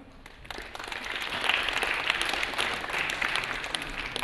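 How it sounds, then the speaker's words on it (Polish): Audience applause for the sponsors at a design event, a broad steady wash of clapping that builds within the first second and holds evenly, moderately loud, with no talking over it. "Duże brawa dla nich."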